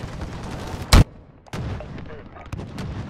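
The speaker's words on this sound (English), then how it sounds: "Allied cruise missile launched." A cruise missile strike lands with one loud booming blast, followed by scattered gunshots and battle noise in the Call of Duty Modern Warfare 2019 video game.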